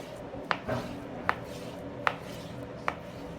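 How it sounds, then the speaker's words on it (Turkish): Evenly spaced knife chops through meat on a cutting board, four crisp strikes about once per second over low background noise. "Evet şimdi bunu doğramaya geçiyoruz."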